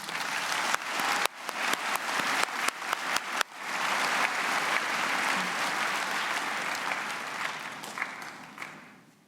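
A crowd at the Clovis Community College 2017 commencement claps for arriving dignitaries, starting as scattered separate claps that swell into sustained, dense applause before tapering off.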